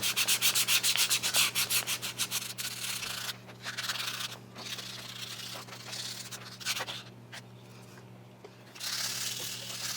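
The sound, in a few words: belt sander sanding recoil pad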